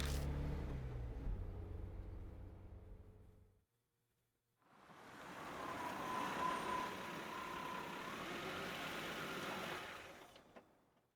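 A car engine in the video game Death Mark, a steady low rumble that cuts out, then after a short silence a sustained running hum with a faint whine, fairly quiet, ending abruptly.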